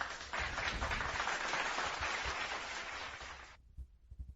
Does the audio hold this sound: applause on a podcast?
yes